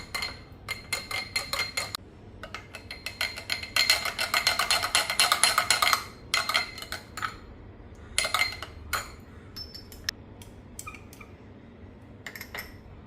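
Raw mango panha being stirred with a spoon, giving a busy run of metallic clinks and scrapes against the vessel, loudest in the middle and then thinning to sparse taps.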